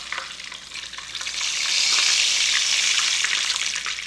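Chicken fries in a pan on the bone, a steady broadband sizzle that swells louder midway and holds, close and continuous with no talk.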